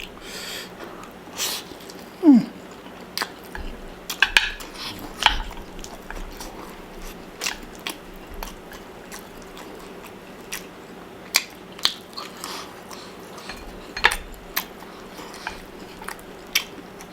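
Crunchy gochujang-sauced fried chicken served with Korean kimchi-flavoured instant noodles being bitten and chewed close up, giving repeated sharp crunches and wet chewing noises over about seventeen seconds, with no talking.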